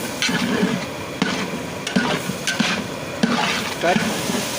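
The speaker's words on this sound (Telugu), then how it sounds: "బొప్పాయి సోరకాయ రెండింటిని అయితే మంచిగా మిక్స్ చేసుకొని కలుపుకోవాలి" Raw papaya and bottle gourd pieces stirred together in a pan, with a spoon scraping and clacking against the metal several times over a soft, steady sizzle; a voice briefly in the background.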